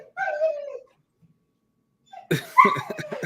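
Two household dogs give a short whine and then a burst of sharp yips and barks close by, with a quiet gap between the two sounds.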